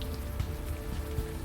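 Steady rain pattering on streets at night in the adventure game Unavowed, an even wash of drops with soft low thumps, no voices.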